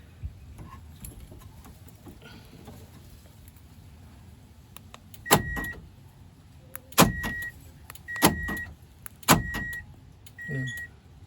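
An aftermarket power door lock on a Toyota Altis actuates by remote several times in a row, each time a sharp mechanical clunk joined by a short beep, over a quiet background.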